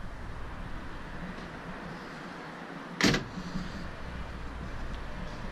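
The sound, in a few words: opening the hood of a car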